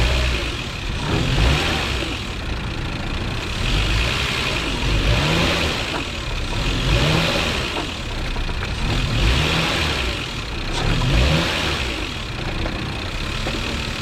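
A 2000-era Lexus GS300 engine revved repeatedly with the brake held, straining worn motor mounts; the mid-pitched engine swells and falls in several rhythmic surges, loud and close, with no talking.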